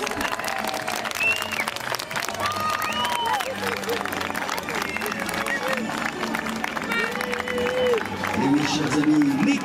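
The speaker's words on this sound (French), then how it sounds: "les Cowboys de Québec qui vous remercient pour vos chaleureux applaudissements" Audience applause after an OK Corral cowboy duel show by the Cowboys de Québec, sustained crowd clapping with some cheering and murmur, mixed with someone speaking over it and a few whistle-like tones.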